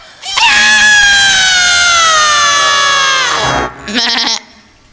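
A human voice imitates a young goat's bleat with one long, loud, wavering cry, then a short second bleat.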